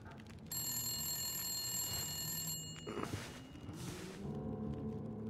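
A telephone rings in the video game The Long Dark, with a bright metallic ringing tone sustained for several seconds over a dense low rumble and ambient game sound.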